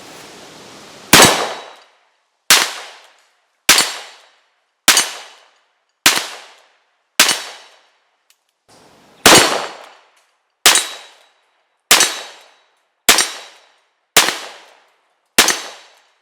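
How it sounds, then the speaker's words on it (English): A 5-inch Ruger GP100 .357 Magnum revolver fires cast lead bullets in a slow string of about twelve loud, sharp reports, each cracking out and ringing away, with roughly a second or so between shots. "It's just part of shooting lead bullets."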